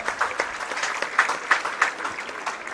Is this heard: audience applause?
yes